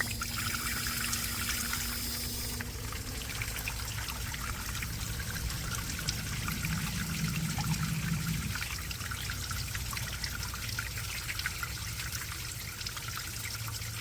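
A garden hose flushes water through the heater core of a 2017 Dodge Ram with a 6.7 Cummins, a steady pouring, trickling stream running evenly for the whole stretch, close and continuous, with no talk.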